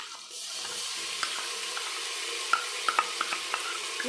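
A ground paste of ginger, cumin and garlic sizzles in a pot with fried onions and tomatoes for a duck curry, a soft steady hiss with a few sharp spoon clinks near the end.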